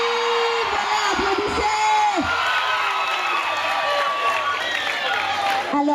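Crowd at a gathering of former students of a lycée applauding and cheering, with whoops and shouts over a steady wash of clapping, sustained for the whole stretch.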